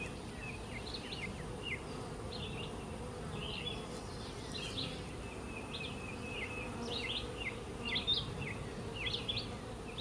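Honeybees hum in an open hive colony during a frame inspection, a low continuous drone with individual buzzes darting in and out nearby, and no voices.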